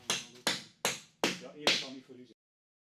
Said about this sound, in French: La cheville à clouer, vous l'enfoncez en une seule fois.